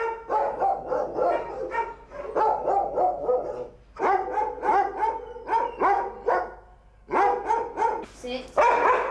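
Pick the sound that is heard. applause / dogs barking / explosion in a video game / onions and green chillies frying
dogs barking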